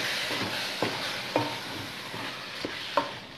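Tomato and spices tipped into a frying pan of minced meat for a Bolognese sauce, giving a steady close hiss of sizzling with a few soft scrapes and clinks of stirring.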